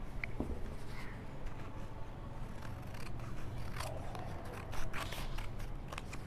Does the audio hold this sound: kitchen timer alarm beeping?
no